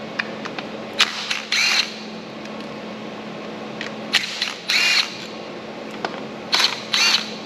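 Several short bursts of a power tool running bolts out of a car's front cover cap, with 10 millimeter bolts and a steady hum underneath; the bursts come close and fairly loud, in pairs, with quiet gaps between.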